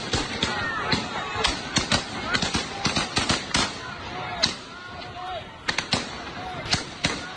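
Russian soldiers firing rifles into the air, a rapid irregular series of sharp cracks and pops, near and loud, with voices and crowd noise underneath.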